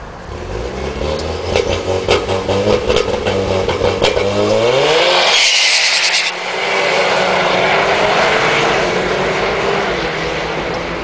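A Mitsubishi RalliArt car accelerates hard during drag testing, the engine revving up through rising pitches with quick gear changes, loud and close, then a brief drop and a steady roar as it pulls on.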